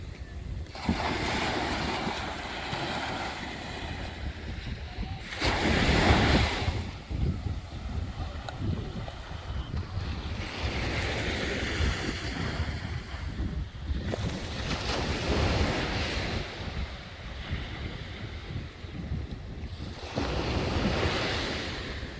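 Ocean surf rolls steadily onto a south coast beach strewn with sargassum seaweed, with gusting wind buffeting the microphone; louder wave crashes swell up every few seconds over a constant roar, with no voices.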